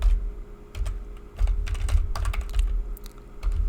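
Quick, irregular clatter of fingers typing on a computer keyboard, close and clear, with bursts of keystrokes and short pauses between them and no talking.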